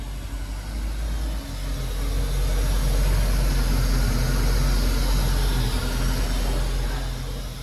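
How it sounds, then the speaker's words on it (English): A Volvo Penta 8.1Gi 375 HP V8 inboard engine in a Glastron 255 GXL boat turns over and settles into a steady, loud, rumbling idle that holds evenly throughout. "and turn the key."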